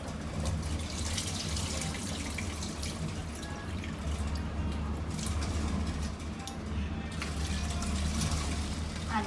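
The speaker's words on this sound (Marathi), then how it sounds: "आता आपण डाळ वॉश करून घेऊया चांगलं" Lentils (dal) being rinsed in water in a home kitchen, with a steady wash of running tap water and splashing that continues without a break, fairly loud throughout.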